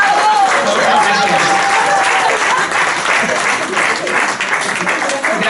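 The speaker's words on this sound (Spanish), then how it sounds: "Gracias por aplaudir el esfuerzo." Audience applause at a live spoken-word and song performance, dense steady clapping from a crowd that fills the whole stretch, loud and close with a faint tone sounding over it early on.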